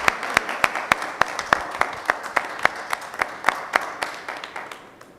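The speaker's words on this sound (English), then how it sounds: "इनके लिए ज़रा ज़ोरदार तालियां होनी चाहिए" Applause from the audience at a corporate Dell technology event, heard as sparse, evenly spaced sharp claps over a steady wash of lighter clapping, fairly close, with no talk over it.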